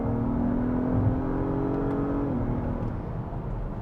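Acura MDX Type S SUV engine revving under load as it drives, a rising harmonic whine that drops sharply as the gearbox downshifts, close and fairly loud with no talk.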